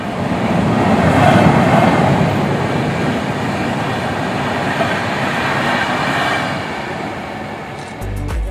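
Train at Tulin station in hilly Purulia, heard as a continuous loud rolling rumble of wheels and carriages that swells early and then holds steady.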